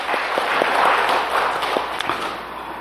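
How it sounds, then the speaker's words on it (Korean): Church congregation applauding after a call to give glory, a steady broadband patter of clapping with scattered sharper hand claps, moderately loud and continuous throughout with no talking. "영광의 박수를 주님께 돌리십시다"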